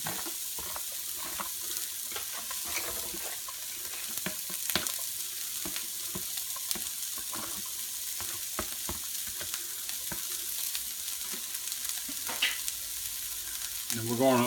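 Finely diced half onion frying with chorizo in a pan for pasta, a steady close sizzle with scattered stirring scrapes throughout and a brief spoken phrase over it.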